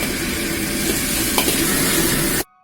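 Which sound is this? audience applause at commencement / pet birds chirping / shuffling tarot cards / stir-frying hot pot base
stir-frying hot pot base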